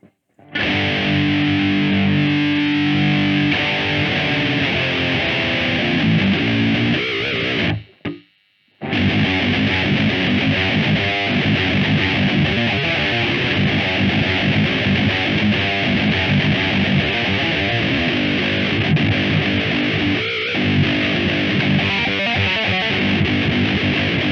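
A heavily distorted electric guitar through a Line 6 POD 2.0 with added gain plays steadily and loud, thick and saturated, with a brief drop to silence partway through before the crunchy tone resumes.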